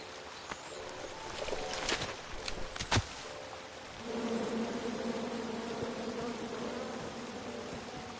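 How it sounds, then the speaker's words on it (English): Angry bees swarm out of a felled tree in the King's Quest video game, a dense, steady buzzing drone that swells in partway through after a few sharp knocks and clatters, fairly close and sustained. "And then you chop down the tree full of angry bees?"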